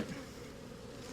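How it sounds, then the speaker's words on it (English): Honey bees from a newly installed bee package buzz in a steady, continuous drone, a busy swarm close by with no voices over it. "So the bees are trying to find a way in"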